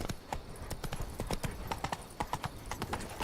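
The horse Roach's hooves clip-clop in The Witcher 3, a steady walking rhythm of distinct close hoof strikes on hard ground, with faint talk in the background.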